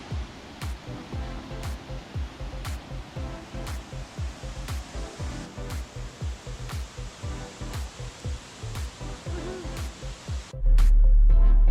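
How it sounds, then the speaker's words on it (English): Millaa Falls, a waterfall in the Atherton Tablelands, pours in a steady broadband roar with regular low pulses, loud and continuous, until a louder rush of wind-like noise takes over near the end. "We've made it to Millaa Falls, the next waterfall."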